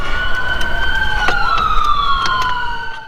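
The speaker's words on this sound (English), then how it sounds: "there's that ambulance that comes every time" An ambulance siren wails loudly and close, its rising and falling tone sweeping past with a slight pitch drop, over a low background rumble.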